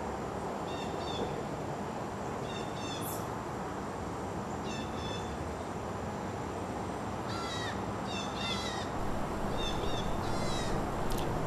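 Several crows give short raspy caws in scattered groups, fairly distant, over a steady broad rumble of wind or background noise.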